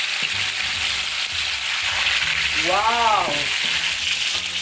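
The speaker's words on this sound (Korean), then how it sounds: "오늘은 앞뒤로 허브솔트 뿌려가지고 그냥 바로 구워보겠습니다" Steak seasoned with herb salt searing in a very hot pan with plenty of olive oil: a loud, steady broadband sizzle throughout, with one short excited exclamation partway through.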